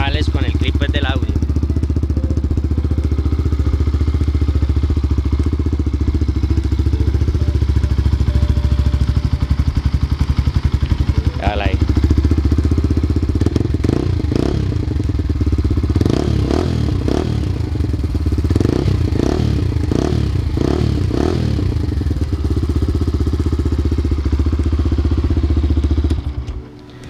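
Benelli 180S motorcycle engine running steadily just after starting, a loud, continuous close-up idle with a few brief throttle blips and some rattling, no voices heard over it.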